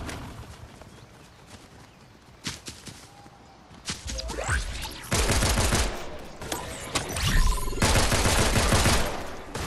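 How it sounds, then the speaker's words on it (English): Gunfire in the Fortnite video game comes as rapid bursts and scattered shots, growing louder and denser in the second half over a low in-game background. "Why are you shooting them all?"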